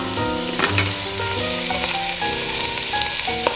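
Onions hitting hot oil in a pan for Moroccan saffron chicken, a loud steady sizzle and crackle running throughout with occasional stirring clinks, no voices.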